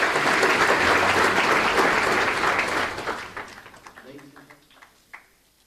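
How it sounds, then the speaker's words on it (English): Audience applause at a 40th birthday celebration, a loud, dense burst of clapping that holds for about three seconds and then tapers away into scattered claps and a quiet room. "Big round of applause, ladies and gentlemen."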